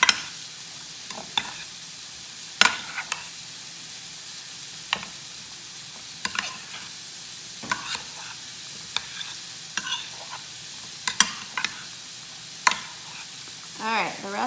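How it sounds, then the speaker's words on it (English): A spoon stirs food in a pan in a home gluten-free cooking session, with a soft, steady sizzle beneath irregular scraping and clicking strokes against the pan that recur every second or two. "I'm just going to stir this up"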